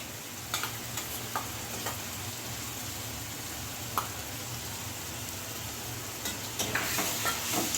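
Spices frying in a pan, a soft steady sizzle with scattered small ticks and light clicks of stirring, close and fairly quiet, with no talk.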